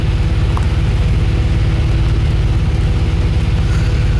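A 1971 bus engine idling close by, a loud, steady low rumble with an even pulsing beat and no talking.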